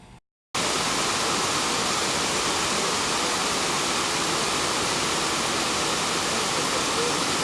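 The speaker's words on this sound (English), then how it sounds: "This is the River Camoan behind us." River Camoan, an important fisheries river, flows nearby as a steady broadband rush of water, loud and continuous after a brief gap at the start, with no talk.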